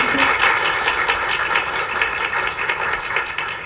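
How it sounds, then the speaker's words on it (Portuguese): Applause from an audience at a Brazilian meeting on noise pollution in São Paulo, a steady wash of clapping that holds fairly loud and even throughout, without speech over it. "Eliseu Gabriel, Nabil Bonduque, uma salva de palmas para eles, que eu agradeço muito."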